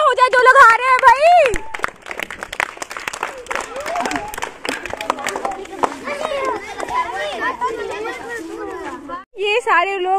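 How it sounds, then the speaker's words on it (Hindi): Applause for children who lost a game of musical chairs at a kids' party, scattered clapping mixed with excited children's voices and chatter, lively and close throughout. "उनके लिए भी तालियां हो जाए, जो लोग हारे हैं भाई"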